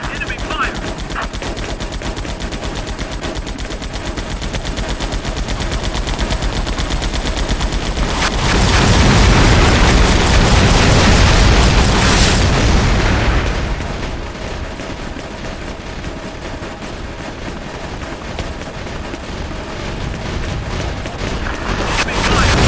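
Gunfire and explosions from the Vietnam War flight combat game Air Conflicts: Vietnam, a dense continuous barrage that swells into a loud roaring burst in the middle, then eases back to steady firing.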